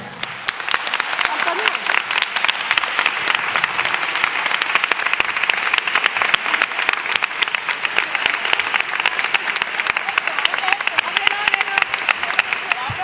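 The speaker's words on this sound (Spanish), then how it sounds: "un aplauso." Audience applause at a carnival groups' competition in a local venue, dense and sustained clapping from a crowd, loud and steady throughout with faint voices mixed in.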